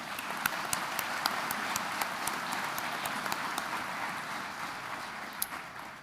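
An audience at a college commencement ceremony applauds steadily, a dense, even roar of many clapping hands with a few sharper, distinct claps standing out.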